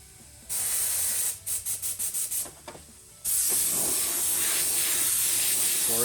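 An aerosol can sprays fluorescent paint onto a Proline body for a Traxxas UDR RC truck: one long hiss, a rapid run of five or six short bursts, then a loud continuous spray to the end.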